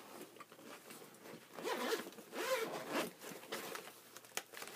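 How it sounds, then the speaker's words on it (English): A zipper on a cooler bag is pulled open in a few drawn-out, raspy strokes, close and moderately loud, with a small snag and click near the end. "zips."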